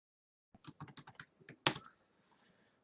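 A computer keyboard is typed on while someone writes Java code: a quiet run of quick clicks, one sharper clack, then a few faint trailing taps. No voices.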